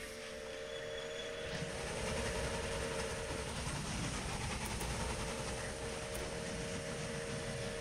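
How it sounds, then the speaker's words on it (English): Trains rolling along the tracks in the Railway Empire Japan DLC game, a steady rumbling rail hum with clickety-clack and a sustained tonal drone running throughout, no talking. "So that should now allow some trains to pass."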